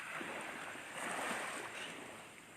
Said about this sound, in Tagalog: Kasabay ang tunog ng alon ng dagat.